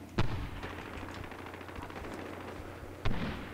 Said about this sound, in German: Da kamen auch zwei Granaten an.